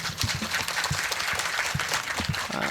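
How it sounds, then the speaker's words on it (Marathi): Audience clapping at a Marathi comic kirtan performance, a steady wash of many hands with a few louder individual claps standing out, moderately loud throughout with no talking. "टाळी वाजू वाटली तरच वाजवायची, वाजूच वाटली तर वाजवायची"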